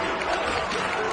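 Constant basketball arena crowd noise fills the space, a loud, even roar of voices and cheering with no breaks.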